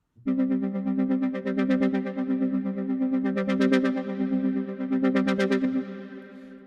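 A sustained synth pad with rhythmic gated pulses and a lush black hole reverb tail, playing alone and fading out at the end.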